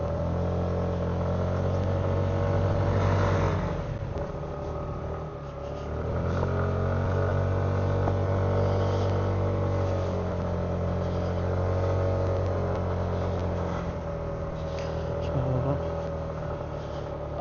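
A motorcycle engine drones steadily while climbing a steep mountain road at Mt. Gulugod Baboy, a continuous close rumble with a slight dip in load midway and wind noise throughout.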